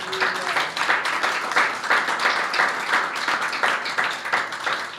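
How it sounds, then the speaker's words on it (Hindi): A church congregation at a Palm Sunday service claps loudly together, a dense, steady roar of many hands that carries on evenly for several seconds with no voices on top. "यीशु के लिए जोरदार तालियां बजाएं।"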